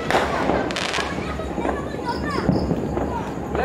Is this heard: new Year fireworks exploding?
yes